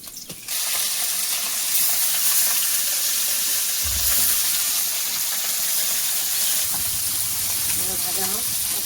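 Oil fries in a pan while cooking a kachu leaf and fish curry, a loud, steady, close hiss that runs unbroken throughout with a few faint knocks.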